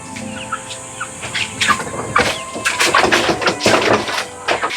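Chickens cluck and chirp in a village yard in the Philippines, with bursts of fowl calls over a busy background of scattered noise and movement.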